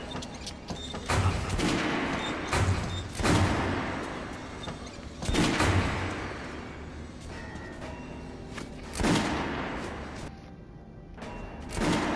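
Guns firing at a shooting range in Metro Last Light Redux, heard as loud, sharp shots spaced a couple of seconds apart, each leaving a long reverberant tail, with no talking.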